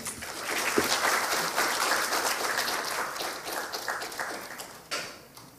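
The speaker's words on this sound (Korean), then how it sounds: "여러분 박수를 맞이해 주시기 바랍니다" A lecture hall audience gives a soft round of applause to welcome a speaker at a humanities lecture, with steady, fairly distant clapping that tapers off.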